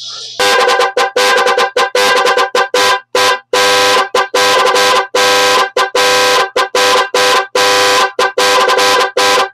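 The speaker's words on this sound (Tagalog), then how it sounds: "Night 3 Plus Pro Music horn relay" A loud electronic musical car horn relay, a Night 3 Plus Pro Music unit on mode 1, plays a rapid series of stuttering musical tones, bursts chopped into short repeated pulses with brief gaps, continuous for several seconds.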